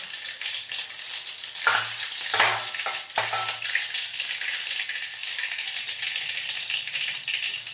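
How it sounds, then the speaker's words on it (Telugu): Mustard seeds and cumin sizzle loudly in hot oil, a dense close frying hiss running the whole time with a few low knocks and rattles near the start, and no voices. "ఆవాలు వేస్తున్నాను. జీలకర్ర,"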